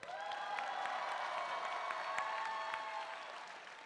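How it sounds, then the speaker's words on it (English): Audience applause at a comic con panel forms a steady spread of clapping from a crowd that fades slightly toward the end. "I could say anything and she applauds."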